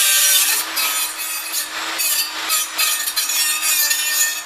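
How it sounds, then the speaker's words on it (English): A curved corner is cut off a clamped steel radiator core support panel on a Chevy Astro or GMC Safari, a harsh, continuous rasping cut with rhythmic stroke-like surges, close and loud with no talk. "Cut the corner off where the panel was marked while clamped."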